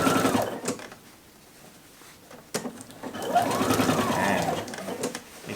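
A sewing machine stitches through the many thick layers of a dress collar, lapel and facing, running in two steady bursts of close, rapid stitching separated by a brief quieter pause.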